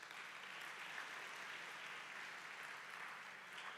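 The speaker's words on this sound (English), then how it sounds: "If you believe in that, give them a round of applause." Audience applause for a children's choir at a choral festival competition, steady sustained clapping from a crowd, moderately distant and filling the whole stretch without talk.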